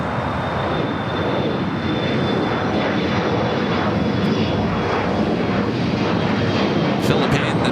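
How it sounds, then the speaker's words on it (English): A Boeing 777-300ER jet taxis at Los Angeles International Airport, its engines a steady, broad roar that holds at even loudness throughout, with no voices heard. "the 777-300ER arriving there on the north side, now making that turn"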